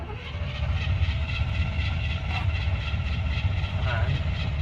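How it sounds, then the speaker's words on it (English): A 1971 Chevy C10 Cheyenne pickup's engine cranks and churns on a cold start with the choke in use, a loud, dense, continuous mechanical drone that holds at a steady level throughout. "All right, cold start, guys. See how it starts."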